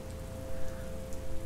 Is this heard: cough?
no